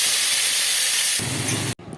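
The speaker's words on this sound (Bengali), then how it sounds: "এবার এই মাছ ভাজার তেলেই দিয়ে দেবো হচ্ছে পেঁয়াজ" Onions hit hot oil left from frying small fish, bursting into a loud, close hiss that shifts in tone midway, then cuts out abruptly before resuming.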